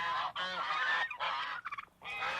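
Geese honk loudly and repeatedly at a lake, a close run of harsh nasal calls broken by short gaps, with a brief stuttering series of shorter honks near the end.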